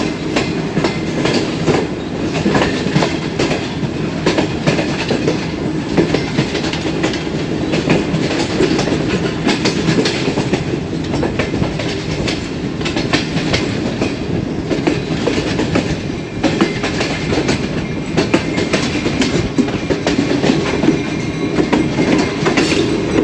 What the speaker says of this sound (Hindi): लोकोमोटिव में बेल की आवाज़ भी आ रही है